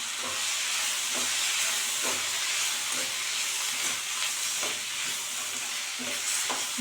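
Garlic, chilli, mint and coriander lightly sautéed in a pan for chutney, a steady bright sizzle with soft repeated stirring scrapes, close and continuous, no voices.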